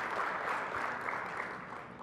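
An audience at a LACNOG network operators' conference gives a brief, steady round of applause for departing members, a dense clapping that tapers slightly at the end.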